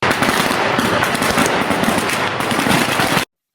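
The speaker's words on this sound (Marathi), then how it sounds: "फटाके फुटत होते बा" Firecrackers burst in a rapid, dense string, loud and close, crackling without pause for about three seconds before cutting off abruptly, set off outdoors during an election-related puja at a statue.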